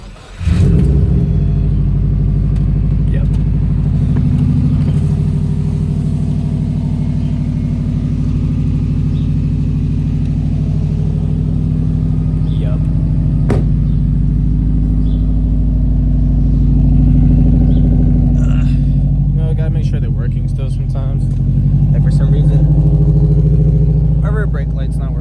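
A Subaru WRX engine rumbles loudly and close, revving up and down in long sustained surges with a deep low-end growl.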